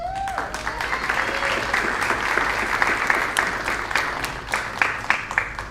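A junior high school audience applauds at a National Junior Honor Society induction as each inductee walks forward, a dense, steady roomful of clapping that continues for several seconds, with a few sharper claps near the end.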